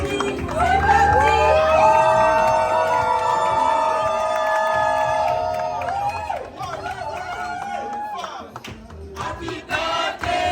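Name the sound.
crowd cheering at a birthday party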